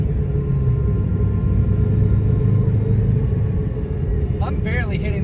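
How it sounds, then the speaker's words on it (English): A turbocharged Toyota Corolla engine gives a deep, steady rumble that stays loud and even from inside the car, with no sharp rev peaks, and a voice talking over it near the end. "It even sounds like a Subaru."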